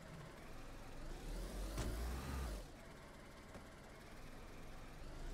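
A vehicle engine in DayZ survival gameplay rumbles and revs, swelling loudest around the middle of the stretch and then settling to a steadier drone.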